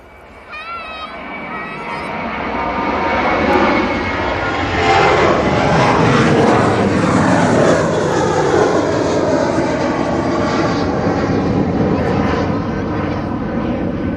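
A Ryanair airliner passes at East Midlands Airport, its engine roar swelling from quiet to a loud, sustained rumble and whine that holds steady, with people talking over it.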